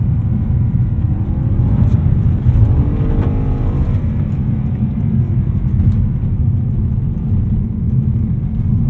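A tuned 2010 BMW E92 M3 pulls out of a corner under throttle, heard from inside as a loud, steady low engine drone with a faint rising tone in the middle.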